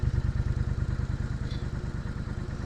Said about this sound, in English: I'm glad I got cruise control on this bike because it means I can warm up my right hand on the engine while riding still.